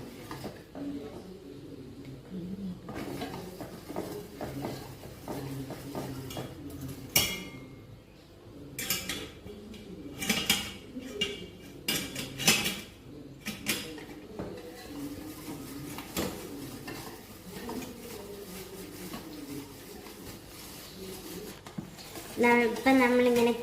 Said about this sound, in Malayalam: കൊക്കോ പൗഡറും കോൺഫ്ലവറും പാലും കൂടി മിക്സ് ചെയ്ത് നമുക്ക് ഇതിനകത്തോട്ട് ഒഴിച്ചു കൊടുത്ത് നല്ല രീതിയിൽ ഇളക്കണം